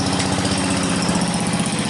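A mint 63-year-old Briggs and Stratton engine drives an RCA generator under load, a loud, steady, close mechanical drone with a fast pulsing beat and no talking.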